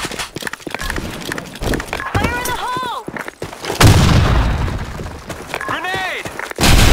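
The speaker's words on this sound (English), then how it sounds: "Fire in the hole! Grenade!" Gunfire and explosive blasts in the online shooter Blackshot, a loud broadband burst near the middle standing out over a busy mix of shots and effects, with voices calling out over the action.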